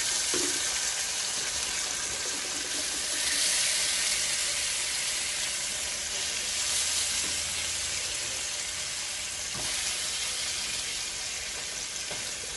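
Oxtail pieces browning in a pan over medium-high heat on a stove, giving a steady, close sizzle and frying hiss that runs throughout with small pops and no talking.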